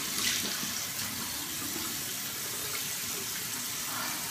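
Water runs steadily from a bathroom tap into a sink, a continuous close hiss and splash with no pauses, heard alone without talk.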